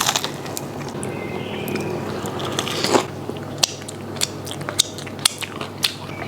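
Close-up bites and crunchy chewing of crispy fried oyster mushrooms in a vegan dish, a louder crunch near the middle followed by a run of sharp, irregular crackles as the food is chewed.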